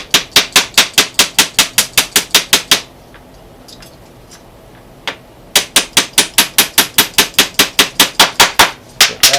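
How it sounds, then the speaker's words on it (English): Loud, rhythmic hammer blows striking in quick even series, with a short pause midway before the steady pounding resumes. "Grab another nail, and I should probably go get another bigger hammer"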